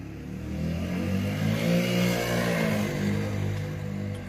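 A scooter engine revs as it passes close by, a steady buzzing drone that swells and eases over a few seconds, with no talking.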